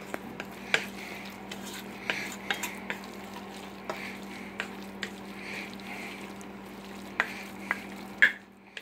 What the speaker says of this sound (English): now we're going to mix it again and blend our salt and peppers in there with it